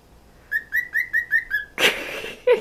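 A pet cockatiel whistles a run of six quick, even melodic notes close by, followed by a louder burst of harsher chirping calls.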